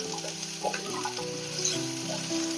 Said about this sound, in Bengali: আলুটা যেই একটু লাল লাল হয়েছে, এবার আমি কুমড়োটা দিয়ে দেবো।